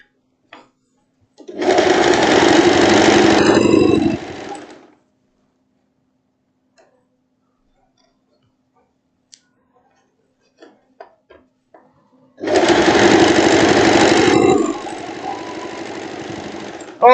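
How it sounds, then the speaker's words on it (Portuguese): An overlock sewing machine stitches a long boho dress in two loud, rapid bursts of buzzing about ten seconds apart, with faint handling clicks in the quiet gap between them. "depois eu vou fechar lá em cima com a overlock"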